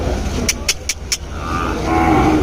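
An Ongole calf at a cattle market lets out a drawn-out moo, near and fairly loud, with a few sharp metallic clicks early on.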